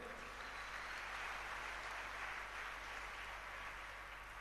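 Church congregation applauding, a steady wash of clapping that holds at an even level throughout, fairly distant and diffuse, with no clear voices above it.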